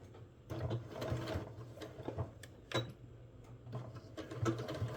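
A sewing machine stitches a seam on a fabric notebook cover with a 1/2 inch seam allowance, running in a quick, close, rhythmic whir with a few brief pauses and restarts.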